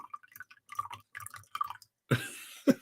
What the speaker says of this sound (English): Loud coffee pouring.